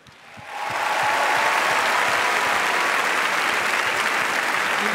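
A large audience at a political debate evening breaks into applause. The clapping swells over about a second, then holds as a dense, even ovation.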